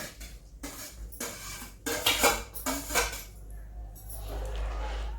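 Several bursts of clattering as okra is tipped into a metal pot of boiling liquid, with scraping and clinks between short pauses, followed by a low sizzle.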